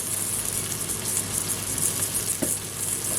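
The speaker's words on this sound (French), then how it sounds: "Voilà, les oignons, ils commencent à dorer" Onions fry in a pan with a continuous, even hiss of sizzling fat. The sound holds at a moderate level throughout, with no talk over it.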